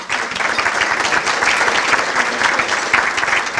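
An audience at a mobility luncheon applauds steadily as Dr. David Cole, an automotive industry expert, is brought up to speak, a full, sustained clapping with faint voices mixed in.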